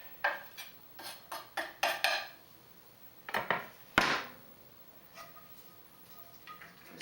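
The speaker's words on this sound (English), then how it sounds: "And stir everything around." Celery and onions stirred around in a skillet, a utensil scraping and knocking against the pan in a run of close, quick clatters with short pauses between strokes.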